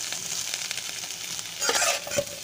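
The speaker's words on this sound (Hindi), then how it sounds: "अब हम इसमें अपने सारे आलू को डाल देंगे।" Potatoes fry in hot oil in a pan with a continuous bright sizzle, swelling louder for a moment as they are stirred and moved about, with no talking.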